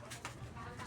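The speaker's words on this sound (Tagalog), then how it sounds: "ito yung ating kalapate, mga kalapatids" A pigeon gives a soft, brief coo, quiet and partly mixed with a faint human voice in the background.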